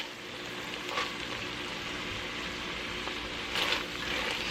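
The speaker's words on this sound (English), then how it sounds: "Okay guys, so my onion's been cooking for about 5 minutes. Go ahead and add the celery." Chopped celery goes into onions that have cooked about five minutes in a pan for beef pot pie, giving a steady, soft sizzle with brief louder bursts of stirring, no voices.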